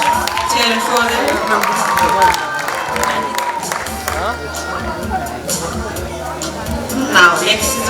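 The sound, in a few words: audience cheering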